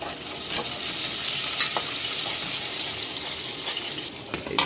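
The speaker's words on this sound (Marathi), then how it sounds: "तर पहिले आपण लसूण टाकूया आलं लसूण शिजून घेतो" Garlic and ginger frying in a little hot oil, a steady close sizzle with occasional stirring clicks and scrapes, no talking over it.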